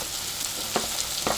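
Sliced onions with a pinch of salt frying in oil in a kadai, a steady soft sizzle with two brief stirring scrapes, close and alone.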